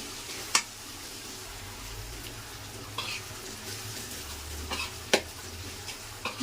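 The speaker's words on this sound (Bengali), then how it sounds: "পেঁয়াজ পাতাটা দিয়ে ভালোভাবে মিশিয়ে নেব।" Chopped spring onion greens are stirred in a frying pan over a steady, soft sizzle, with a few sharp scrapes of the utensil against the pan standing out close by.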